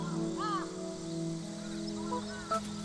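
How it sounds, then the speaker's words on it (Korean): A crow caws in a wetland thicket on Jeju's Mulyeongari oram while plucking fur from a roe deer, giving a few harsh, moderately close calls over a quiet, steady outdoor background. "그런데 눈치 없는 까마귀가 노루의 털을 뽑고 있다."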